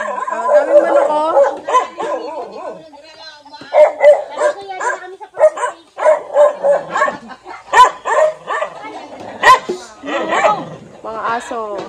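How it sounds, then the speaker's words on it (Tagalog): Dogs bark in repeated bursts in a rural family yard full of chickens, the yaps and woofs coming close and fairly loud while people talk over them throughout. "Mga aso."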